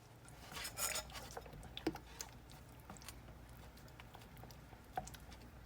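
A utensil clicks and scrapes against a bowl while lasagna ingredients are mixed by hand, giving irregular light taps and a few sharper knocks, close and fairly quiet.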